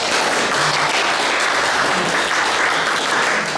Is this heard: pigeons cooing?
no